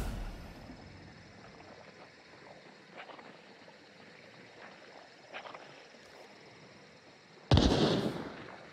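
A single loud gunshot in the video game Hunt: Showdown, a sudden close blast with a rolling tail near the end, following a stretch of quiet ambience and faint footsteps.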